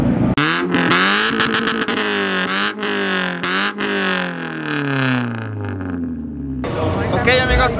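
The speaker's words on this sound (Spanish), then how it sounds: "ustedes van a poder estar escuchando qué tal se oye este Focus" A Ford Focus engine revs hard and close, its pitch sweeping up and down through several loud pulls before easing off, with brief voices joining near the end.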